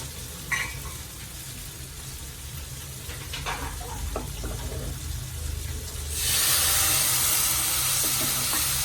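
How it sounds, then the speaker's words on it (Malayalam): Boiling water is poured onto roasted vermicelli in a hot pan while making milk payasam, a low stirring scrape giving way to a loud, sustained hiss and sizzle in the last few seconds. "നല്ല തിളപ്പിച്ച വെള്ളമാണ് അത് ഒഴിച്ചു കൊടുക്കാം"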